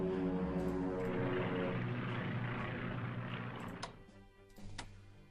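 Propeller-driven bomber engine drone in the wartime strategy game Strategic Command: World at War, a steady loud harmonic hum that fades toward the end with a couple of brief sharp clicks, no talk.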